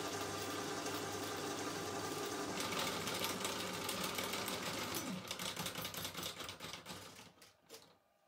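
A VEVOR 250W drain pipe cleaner runs with its spiral and storage drum rotating, a steady mechanical whir and rattle that shifts partway through, then clatters unevenly and cuts out near the end.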